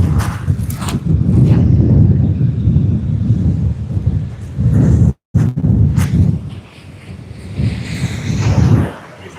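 Strong wind blows at sea during kayak fishing, buffeting the microphone with loud, low rumbling gusts that roar almost continuously, cutting out briefly and then returning, with no talk.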